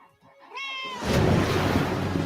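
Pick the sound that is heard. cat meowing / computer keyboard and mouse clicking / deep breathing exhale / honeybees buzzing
cat meowing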